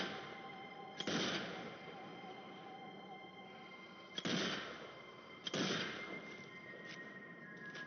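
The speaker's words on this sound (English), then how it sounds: "3 shots to kill an average zombie." Gunshots fired at a zombie in Zombie Army 4, three sharp separate reports spaced a few seconds apart, each with a lingering echo over a quiet ambient background.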